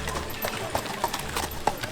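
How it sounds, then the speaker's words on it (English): Horses walk at a local farmer festival in Gothenburg, hooves clip-clopping in a loose, uneven rhythm amid faint crowd murmur outdoors. "a lot of horses too."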